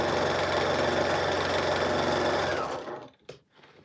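A sewing machine runs a zigzag stitch in a fast, continuous mechanical whir with rhythmic knocking, then winds down and stops near the end, leaving a brief click and quiet.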